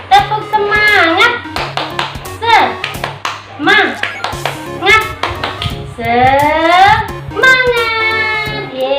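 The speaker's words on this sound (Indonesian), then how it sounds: "Yuk semuanya, tepuk semangat." Kindergarten children do a rhythmic spirit clap in a classroom, sharp hand claps in a patterned beat mixed with loud chanting and singing voices throughout.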